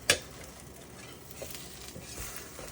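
A grilled cheese sandwich sizzling in a pan just after being flipped, a soft, steady frying hiss with a sharp tap at the start and a few faint clicks.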